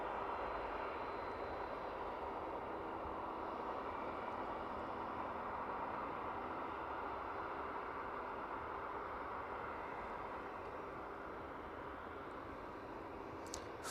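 A Ryanair airliner inbound from Alicante arriving at East Midlands Airport, heard as a steady, broad jet roar that holds evenly throughout at a moderate, somewhat distant level, with no talk.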